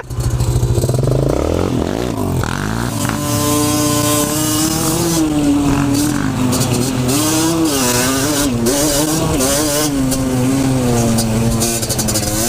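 A 50cc enduro motorcycle engine revs loud and close throughout, its pitch rising and falling with throttle changes over a steady buzzing drone, with no talking.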